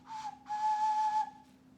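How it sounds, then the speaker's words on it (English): A handmade clay ocarina blown lightly to test it: two short, clear steady whistle tones, the second held about a second, pure and fairly soft in a quiet room. "Just a light blow should make it whistle"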